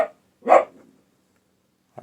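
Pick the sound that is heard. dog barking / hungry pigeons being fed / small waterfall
dog barking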